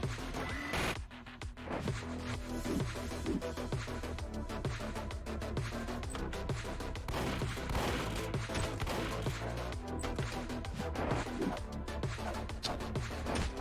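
Minigun fire in the shooter game Midnight Mercenaries: a dense, sustained stream of rapid gunshots that rattles on loudly almost without pause, with crashes and impacts mixed in.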